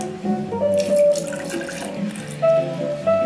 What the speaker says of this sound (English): add 90 ml of pineapple juice.